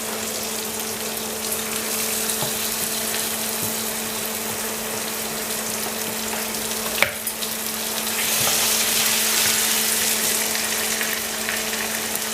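Chicken liver frying in a pan, a steady dense sizzle held throughout at moderate level, brightening and growing louder in the last few seconds, with a sharp clink near the middle and a faint low hum beneath.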